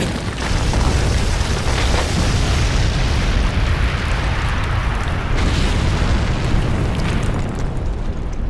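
A massive anime super-move explosion levels the Alamo in a sustained, dense roaring blast that holds loud and broad for several seconds, with no voices over it.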